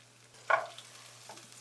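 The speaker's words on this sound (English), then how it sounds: "We're gonna get all that coated with the garlic. Cook this down for another 30 seconds" Potatoes and broccoli stirred with minced garlic in a pot for a creamy sausage casserole: quiet background hiss broken by two or three short scraping bursts of stirring, with no talk.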